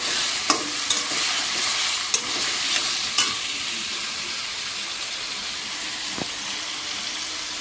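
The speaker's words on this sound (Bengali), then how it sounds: "এবারে কড়াইয়ের মধ্যে পেঁয়াজ কুচি, আদা রসুন পেস্ট দিয়ে মশলাটা কষিয়ে নেব।" Chopped onion, ginger-garlic paste and spices fry in a wok with a loud, constant hissing sizzle up close. A few spatula scrapes and knocks come in the first seconds, then the frying continues alone.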